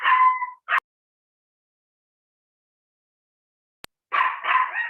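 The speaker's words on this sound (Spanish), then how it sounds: "me disculpan el ruido, pero tengo un perrito que hace mucha bulla" A small dog gives a few sharp barks near the start and again at the end, loud and close, with near silence in between.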